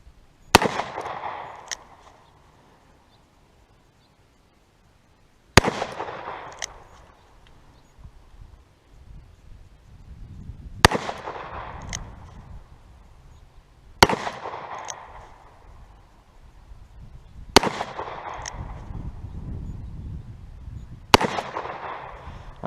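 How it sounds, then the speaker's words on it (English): Six loud, sharp shots from a Taurus .44 Magnum revolver being sighted in at 15 for deer hunting season, fired one at a time several seconds apart, each with a ringing outdoor decay. "just going to put some rounds through here at 15."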